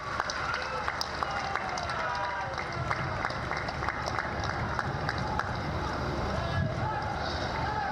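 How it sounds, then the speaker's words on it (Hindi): Crowd applause at a political event in Gorakhpur welcoming the chief minister, a steady wash of clapping running throughout with a public-address voice over it. "एक बार तालियों के साथ स्वागत, गड़गड़ाहट के साथ स्वागत करें।"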